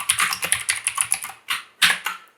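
Fingers tap quickly on a computer keyboard in a quick run of crisp keystrokes, a short pause, then a couple more close, clear clicks.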